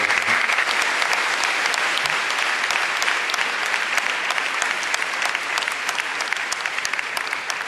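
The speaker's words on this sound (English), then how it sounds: "can we have a big round of applause for them?" Steady, enthusiastic applause from a sizeable audience at an awards ceremony, cheering the award recipients, dense clapping sustained throughout without letting up.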